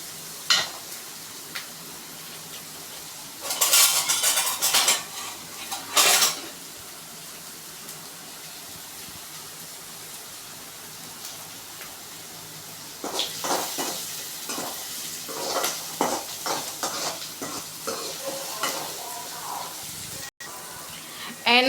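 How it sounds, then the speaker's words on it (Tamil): Vegetables sautéing with salt in a pan for Maggi noodles, bursts of sizzling and stirring scrapes coming in two busy stretches, with quieter gaps and a voice talking between them. "கொஞ்சமாக உப்பு போட்டுக்கலாம், சீக்கிரமாக வதங்கும். உப்பு போட்டாச்சு. இப்போ நம்ம நல்லா வதக்கிக்கலாம்."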